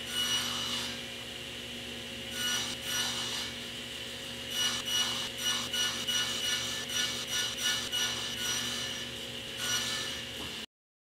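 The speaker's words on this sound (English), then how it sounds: "Now I just need to round over both edges and then we'll cut them to length." A router rounds over the edges of cherry stock, a steady whining hum with bursts of rougher cutting noise as it passes along the wood, close and continuous with no talking.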